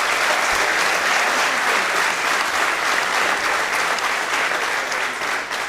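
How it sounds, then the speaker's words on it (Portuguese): Steady, loud applause from a corporate talk audience, dense clapping filling the room for the full stretch without a break and tapering only slightly at the end. "gostava que dessem uma salva de palmas ao Gonçalo"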